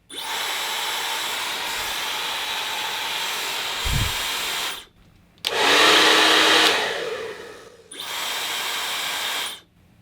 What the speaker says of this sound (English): And here's the Dyson at full power.